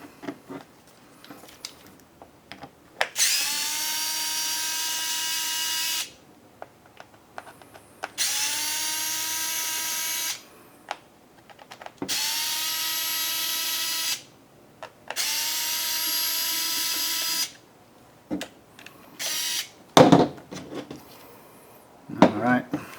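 Power drill backing out four screws while taking apart a Navage nasal irrigation device: four sustained, loud whirring bursts of a few seconds each, separated by quiet gaps with light clicks and handling noises near the end.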